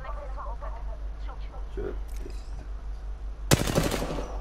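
Video game gunfire rips out in one loud rapid burst near the end, after a stretch of quieter game sounds and a voice talking.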